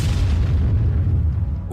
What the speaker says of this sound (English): a massive explosion tore it apart.